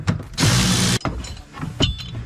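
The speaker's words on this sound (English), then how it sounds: "we will be removing the nuts off of the brake pedal assembly" Ratchet wrench loosening nuts on the brake pedal assembly of a Polaris RZR during a power steering install: a loud, close burst of clicking and rasping metal, followed by quieter clinks and tool handling.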